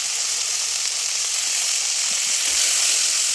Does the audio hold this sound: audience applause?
no